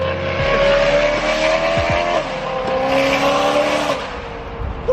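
BMW E92 M3 revving hard with tires squealing, a loud, close, sustained engine roar and screech at a large car meet, with no talking.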